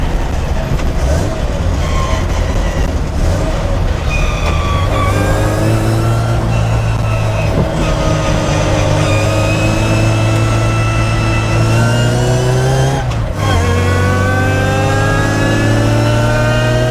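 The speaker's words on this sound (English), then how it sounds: "You can hear the supercharger over the drop gears, which is amazing." A supercharged 998 engine in a Big Bogie build revs loudly and continuously, with rising and falling harmonic tones and a high supercharger whine riding over the drop gears.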